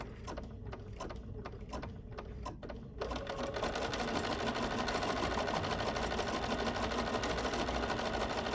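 An embroidery sewing machine stitches out an ornament design, a quieter ticking run of needle strokes giving way to a loud, steady mechanical chatter of rapid stitching, with no voices.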